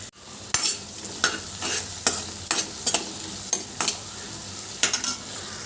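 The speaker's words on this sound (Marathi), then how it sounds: "एक छोटा बारीक चिरलेला टॉमॅटो तो परतून घ्यायचा चिमुटभर हिंग घालायचं" Finely chopped tomato with a pinch of asafoetida sautéed in a pan after onions, heard as a steady close sizzle broken by repeated sharp spoon scrapes and stirring knocks, with no talking.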